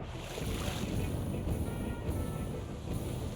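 Steady rushing water from a waterfall in an FPS video game pours without a break, a constant broad roar heard at a moderate distance, fairly faint.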